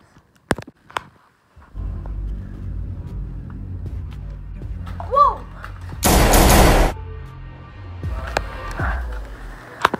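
A short, sharp burst of gunfire in a real-life Rainbow Six Siege recreation, rising out of a steady low engine-like hum, with faint voices around it.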